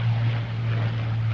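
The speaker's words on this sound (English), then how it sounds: "Here's the Curtiss P40F, the Warhawk" A Curtiss P-40F Warhawk passing at an air show, a loud, steady propeller-engine roar with a strong low drone that holds throughout.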